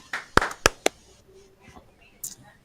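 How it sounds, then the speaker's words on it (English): Two sharp hand claps ring out close and loud in quick succession, followed by a third smaller clap, with faint background sounds between them. "So 2 claps for Kate Anderson for the job he's done this season"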